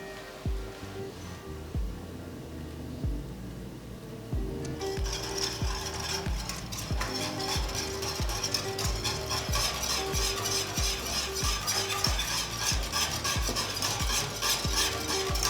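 A spoon stirring hot chocolate in a pot where cinnamon sticks had steeped, with chocolate powder or vanilla added; a regular clinking, scraping rhythm against the pot, growing busier and brighter midway as a hiss of simmering joins.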